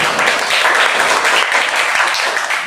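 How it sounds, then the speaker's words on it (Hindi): A classroom of students applauds during a Hindi quiz activity, a loud even burst of dense hand clapping that carries on steadily without pause. "तो तालियां बजा दीजिए थोड़ा सा"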